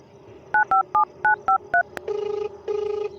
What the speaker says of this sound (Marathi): आता सूर्य देवळच फोन लावतो.